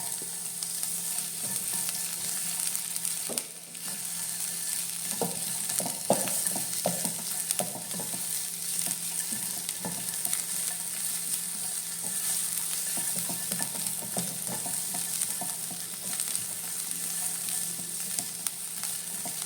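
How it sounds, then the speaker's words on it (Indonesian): Chopped onion frying in a pan for fried rice, steady loud sizzle with repeated scraping stirs of a utensil throughout, no talking. "sekarang mulai dimasukkan bawang bombaynya"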